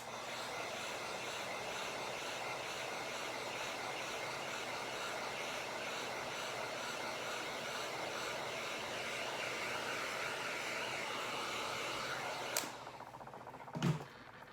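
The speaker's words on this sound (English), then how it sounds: "I am keeping my tumbler about, or my heat gun about 6 inches away from my tumbler, and I'm going to go back and forth quickly." A heat gun blows on an alcohol ink tumbler, giving a steady, fairly faint airy whoosh that holds for most of the stretch, with a couple of small knocks near the end.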